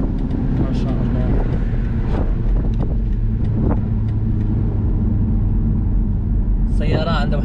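A 2021 BMW Z4 20i accelerating on the road, its steady loud engine drone and rumble continuing throughout, with a voice exclaiming over it.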